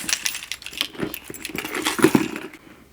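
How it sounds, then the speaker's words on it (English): A whole bunch of keys on a Vegas keychain with a beer opener, handled from inside a purse: close, bright metallic jingling and clinking in uneven bursts, with no talk. "And a whole bunch of keys."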